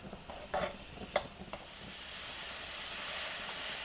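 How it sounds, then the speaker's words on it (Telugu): Mushrooms stir-frying on a high flame for mushroom and paneer fried rice, a steady broad sizzle that builds toward the end, with a few sharp scraping stirs early on and no talk. "ఇప్పుడు అలా చేయకుండా నేను హై ఫ్లేమ్లో పెట్టి కంటిన్యూస్గా కలుపుకుంటూ ఉన్నాను."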